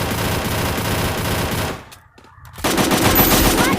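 Rapid automatic gunfire from UMP and M4A1 weapons in the Free Fire mobile shooter, sustained loud bursts that break off into a short near-silent gap before another dense volley resumes.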